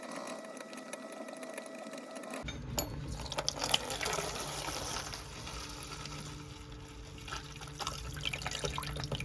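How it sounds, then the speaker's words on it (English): Diesel fuel drains from the bottom of a water separating filter on a Fischer Panda diesel generator into a plastic container, a steady continuous trickle starting a couple of seconds in and running until the end. "drain out the fuel out of the bottom of the water separating filter and see if we have any water in there"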